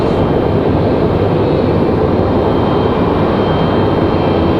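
A Cessna Grand Caravan at Raleigh-Durham International Airport gives a loud, steady low engine rumble that holds unbroken for several seconds, close by.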